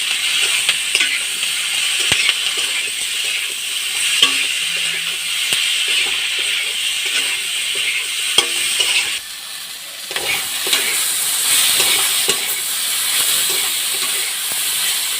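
Ginger and garlic paste fries in a pan for beef, a steady bright sizzle with frequent small ticks and scrapes of stirring, dipping briefly quieter midway before resuming, with no talk.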